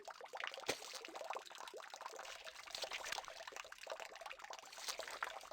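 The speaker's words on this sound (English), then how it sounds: "As if accompanying the loud bubbling sound" Liquid bubbling and gurgling with a pouring, trickling character in the Corpse Party: Blood Drive video game, standing in for blood; loud and continuous throughout, with no talk over it.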